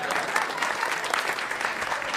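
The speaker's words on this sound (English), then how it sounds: "Thank you for clapping at my misery and pain." A comedy club audience at Gotham Comedy Club in New York applauds in a dense, steady wash of many hands, loud and close throughout the short stretch, with no pause.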